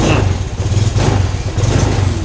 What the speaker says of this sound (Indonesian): baru dia motornya kontan